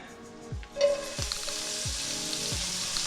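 Leek and mushrooms fry in oil and leftover grease in a hot pan, a steady close sizzle with a brief louder hiss near the start and a few soft stir or contact knocks, no talk.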